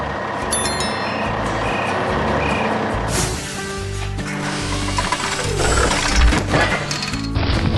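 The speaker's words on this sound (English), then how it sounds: "The truck arrives at its final stop." A dump truck pulls up at a coastal beach-house building site, with steady mechanical clanking, ratcheting and rattling, and reversing beeps that rise and fall over several seconds.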